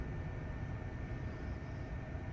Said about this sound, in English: The fan for my inverter is just turned on